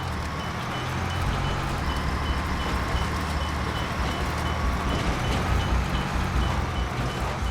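A truck in Metal Gear Solid V keeps up steady, continuous noise with a faint repeating reversing beep over dense engine and environmental sound.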